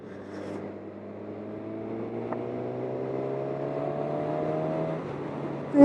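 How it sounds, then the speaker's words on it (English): A 2020 Suzuki Katana motorcycle engine while riding, a steady tonal drone with slowly rising harmonics as the bike gains speed, ending in a short burst of wind noise. "The engine sounds awesome!"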